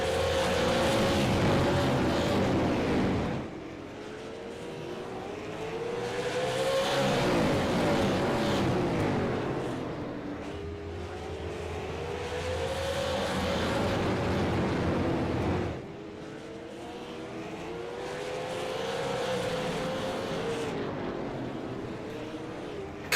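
Super late model stock cars, including a Toyota Camry, racing through lap traffic at Slinger Speedway, engines rising and falling in repeated loud passes that sweep by and fade between cars.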